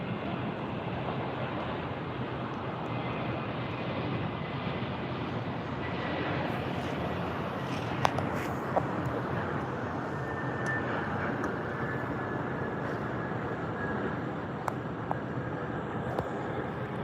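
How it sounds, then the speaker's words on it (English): A Delta Airbus A321neo landing at LAX, heard from a nearby hotel as a steady, broad jet roar that holds evenly throughout, with a few faint clicks on top. "Nice smooth landing for that A321."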